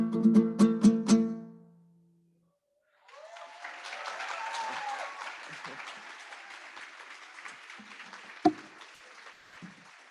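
Audience applause at a student talent show during a family weekend, a burst of clapping and crowd noise that swells and continues steadily after a short musical ending and a pause, with one sharp louder clap near the end.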